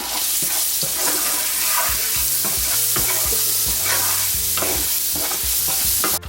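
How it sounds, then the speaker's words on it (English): Seasoned food stirred in a skillet, sizzling and scraping steadily and close by, with garlic-and-herb seasoning and fresh ground pepper mixed in; continuous frying hiss with repeated utensil scrapes, no talking. "Give that a good stir."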